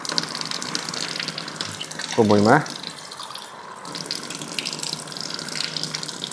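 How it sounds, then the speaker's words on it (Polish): Smart kitchen tap dispensing chilled and sparkling water, a short loud gush of flowing water in the middle with quiet background hiss around it and a brief spoken word in Polish before the pour. "taki właśnie smart kran, który daje zimną wodę schłodzoną, wodę gazowaną."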